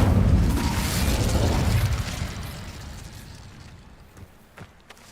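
An Incendio fire spell cast in the video game Hogwarts Legacy bursts with a loud, booming whoosh that rolls and fades over several seconds, a few faint pops trailing at the end.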